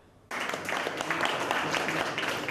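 Applause from a gathered crowd at the launch of a youth job-guarantee scheme at a local employment mission in French Guiana, a steady dense clapping that starts abruptly and carries on loudly to the end.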